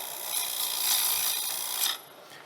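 Steady scraping rasp of a wood lathe gouge cutting across a spinning piece using the bevel rub technique, one continuous close cut that swells and then stops abruptly near the end.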